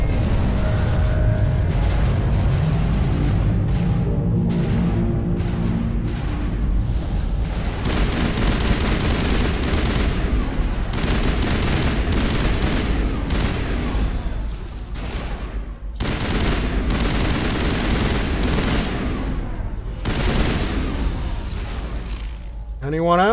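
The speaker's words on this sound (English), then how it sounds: "Time to shoot stuff." Dense video game gunfire, loud and near, with rapid bursts and booming blasts layered almost continuously, broken by a few short lulls.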